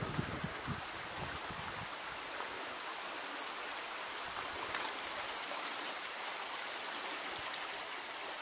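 The Orlica river flows under the Kozi Most bridge in the Bystrzyckie Mountains on a hot July afternoon, a steady soft rush of water with a high insect-like buzz above it and no voices.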